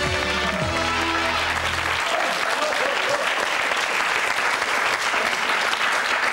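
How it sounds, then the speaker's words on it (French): Loud, sustained applause from a large television studio audience at the game show Pyramide fills the room, with a brief burst of musical tones at the start. "Et avec votre toucher, applaudir bien fort."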